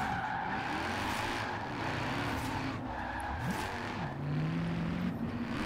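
BMW M1 with a Mercedes AMG engine drifting in Forza Horizon 4, engine droning steadily with long tire squeals and skids sweeping up and down, loud and continuous throughout.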